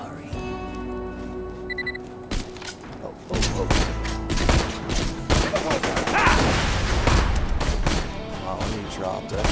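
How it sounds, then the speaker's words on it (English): Dense gunfire in the video game Borderlands 2 comes as rapid bursts and heavy thuds mixed with game effects, loud and nearly continuous, and a player speaks over it now and then. "Where are you shooting me from, little guy?"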